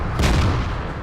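A tank cannon fires in World of Tanks, one heavy close boom with a short rumbling tail standing alone.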